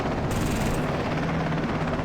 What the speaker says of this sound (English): One little tap of ammunition on that helicopter, and it's definitely going to be going down.